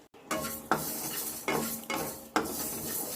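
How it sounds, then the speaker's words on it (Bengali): Mung dal dry roasting in a pan as a spoon stirs it, with a soft sizzle and repeated scraping strokes of the spoon against the metal at a steady, unhurried rhythm, close and clear with no voices. "বড় চামচের এক চামচ মুগ ডালটা আর হাফ চামচ মুগ ডাল নিয়ে এটাকে ভালো করে ভেজে নেব"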